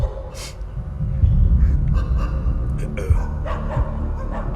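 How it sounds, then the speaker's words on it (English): Dog barking as a sound effect during a tabletop role-playing game session, a few short barks and gasping snorts scattered over a noisy background, moderately close. "You get a quick whiff of blood and you hear barking"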